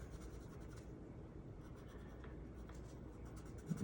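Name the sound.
Cretacolor Aqua Monolith watercolor pencil scribbling on paper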